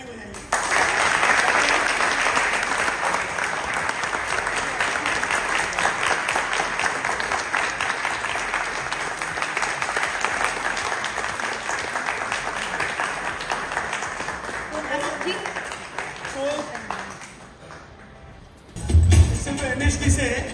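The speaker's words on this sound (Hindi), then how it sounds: "तो आप सब लोग इनके लिए ताली बजाइए।" An audience applauds at a grand celebration marking 18 years of a Hindi TV comedy show, sustained loud clapping for about seventeen seconds that fades before a voice speaks.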